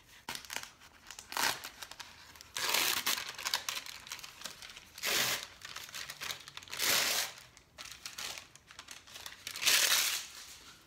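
Paper backing being peeled off an adhesive sheet, cut out for homemade guest slippers, gives close, quiet crinkling and tearing bursts that come in several separate pulls.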